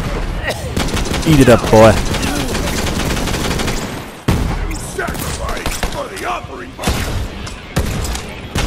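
Rapid gunfire from Borderlands 3 blasting in dense, overlapping bursts with heavy thuds, up close and loud, while someone talks briefly over it.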